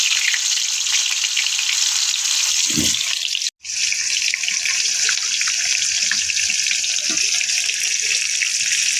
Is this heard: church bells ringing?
no